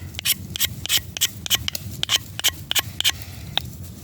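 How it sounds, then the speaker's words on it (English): Knife spine scraping residue off material, a string of short, sharp rasping strokes up close in an uneven rhythm, roughly a dozen scrapes in quick succession with no voices. "I would scrape off most of this stuff."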